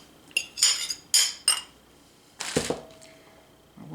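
Eggs being beaten by hand in a small bowl for cake mix brownies, giving several sharp clinking strokes of a utensil against the bowl in quick bursts, close and fairly loud, with no talk.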